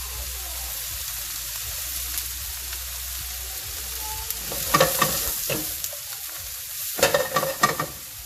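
Minced garlic, ginger and onions in a stir-fry pan for apricot chicken, a quiet hiss at first, then bursts of loud sizzling and scraping as the mix is tossed twice near the end.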